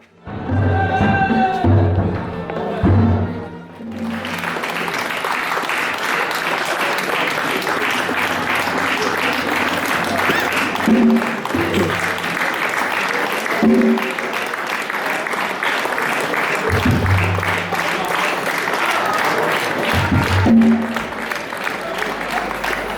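Sustained, loud applause from an audience at a royal court stage performance in Khiva, Uzbekistan, starting abruptly after a stretch of music with drum beats and holding steady as a dense wash of clapping, with occasional low thuds.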